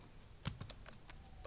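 Code is typed on a computer keyboard in a few quiet, scattered key clicks, close and soft, with no voices.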